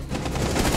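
Dense, loud automatic gunfire in the video game Rainbow Six Siege, a rapid burst of shots packed tightly together in under a second.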